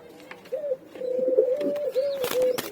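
Pigeons cooing in a loft, a run of soft, wavering coos close by with a few faint chirps in the background and no talk.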